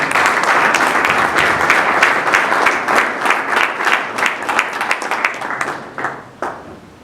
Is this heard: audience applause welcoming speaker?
yes